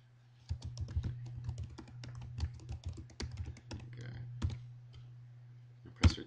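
Fingers type on a computer keyboard in rapid, irregular bursts of close, crisp key clicks over a low steady hum, ending with one firmer keystroke, and speech can be heard briefly.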